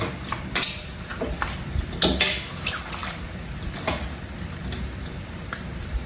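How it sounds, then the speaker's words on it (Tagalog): A spoon scrapes and clinks against a pot as a boiling chicken stew is stirred, with irregular sloshing and simmering hiss throughout. "Yan, kumukulo na. Hahaluin natin."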